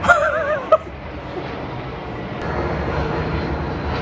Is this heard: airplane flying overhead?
yes